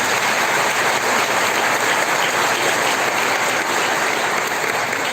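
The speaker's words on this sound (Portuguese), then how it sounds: "uma calorosa salva de palmas a nós todos" A church congregation at a parish novena applauds warmly, a dense, even wash of clapping that fills the whole stretch without pause or voices.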